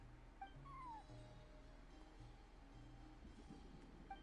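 A cat meows inside the Genshin Impact video game, sitting at a front desk: one rising-falling meow stands out clearly over steady game background music and ambience.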